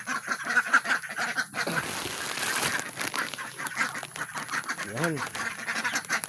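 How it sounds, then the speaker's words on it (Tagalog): Small ducklings in a backyard pen quacking and peeping busily, with someone speaking over them close by. "May ingay na po ang mga munting itik"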